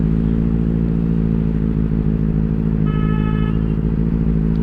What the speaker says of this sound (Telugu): బెనెలి ఎందుకు స్పెషల్ అంటే ఇది సౌండ్ మిషన్ కాబట్టి స్పెషల్